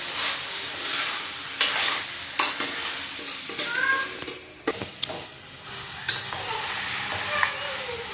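Coriander powder and turmeric are stirred through hot frying oil in a pan for pepper chicken, giving a continuous sizzle with intermittent scraping and clanking of a spoon, close up and without voices.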